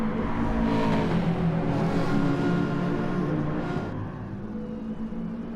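Subaru touring cars racing at Dragon Trail in a video game, a steady loud engine roar with layered whine from two closely matched cars, slightly easing near the end.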